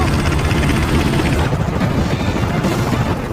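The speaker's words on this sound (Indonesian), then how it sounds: "Michael berusaha melarikan diri dengan menggunakan helikopter sembari membawa Sarah dan Jonas" A helicopter roars loud and steady through a movie chase scene, its thick rotor and engine noise filling the whole stretch without a break and no voices over it.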